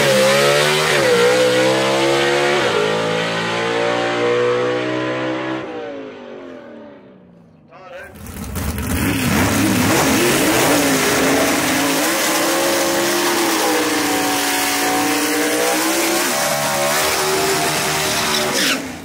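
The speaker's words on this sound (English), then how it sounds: "in the Double X, the 1958 Delray with one-way technology horsepower underneath the hood right there for him." A 1958 Delray gasser drag car at London Dragway revs loudly up close, rising and falling through the gears, cutting out briefly, then roaring back into a sustained high-pitched blast.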